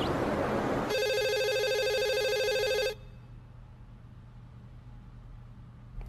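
A telephone rings loudly with a steady electronic ring lasting about two seconds, then stops and leaves a quiet hum of room noise, with no talk.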